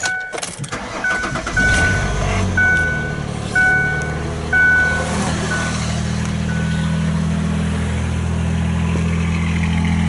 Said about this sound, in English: I guess I can start it up on camera. Just do a cold start.